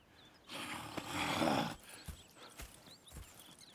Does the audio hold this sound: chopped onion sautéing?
no